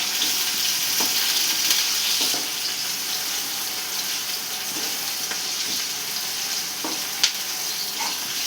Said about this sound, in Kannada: ಶುಂಠಿ ಪೇಸ್ಟ್ ಹಾಕ್ತಿದ್ದೀನಿ